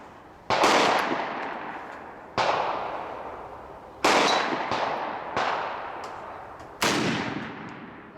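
An A.S.M. 1860 Army black-powder revolver is fired at a target outdoors, five loud, sharp shots spaced about a second or more apart, each with a long decaying echo.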